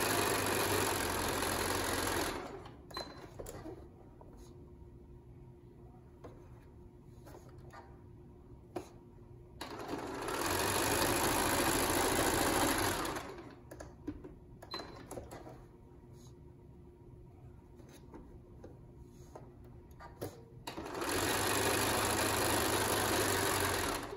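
Sewing machine chain piecing a patriotic star quilt block, running in three loud, steady bursts of rapid stitching a few seconds long, each followed by quieter handling and small clicks.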